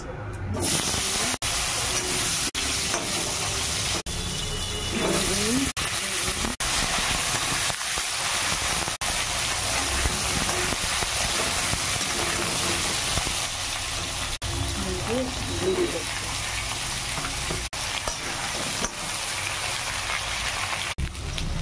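Panch phoron spices frying in hot oil after fish was fried for a fish curry, with a dense, continuous crackling sizzle and popping that holds steady and loud throughout.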